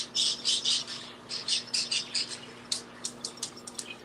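Birds fuss indoors with bursts of sharp, close squawks and chirps in quick clusters, loud against a quiet background hum.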